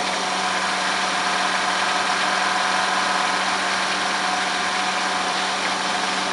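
A 1988 Heidelberg SM 102 V sheetfed printing press runs at its first impression cylinder. The machine gives a loud, continuous mechanical roar with a steady low hum and no pauses.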